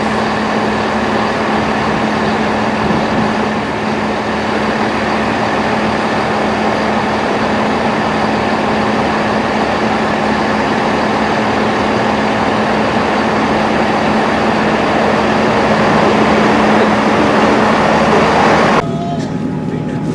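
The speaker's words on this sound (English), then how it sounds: "This is the 15:30 ARRIVA Trains Wales Service to Birmingham International" An Arriva Trains Wales class 158 diesel unit, 158 825, pulls out of Chester on the 15:30 service to Birmingham International, its engine a steady drone with a sustained hum, rising slightly before an abrupt change near the end.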